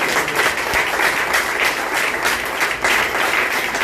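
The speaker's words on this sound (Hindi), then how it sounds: "आइए हम एक बड़ी तालियों के साथ परमेश्वर का" Church congregation clapping together in sustained, loud applause to praise God during a worship service, a dense steady wash of many hands with no talk over it.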